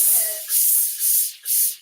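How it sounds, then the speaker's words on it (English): Spray starch from an aerosol can misted onto fabric, pineapple scented, in a sewing and ironing setup: four short, loud, close bursts of hissing spray, evenly spaced, with no talking. "There's all different ranges of starch. You can go ahead and spray."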